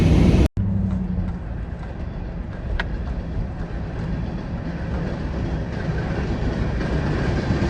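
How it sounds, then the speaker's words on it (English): Rail cars roll steadily past a railroad crossing at close range, a continuous rumble with faint clacking that carries on for several seconds, with no voices. "Train crossing."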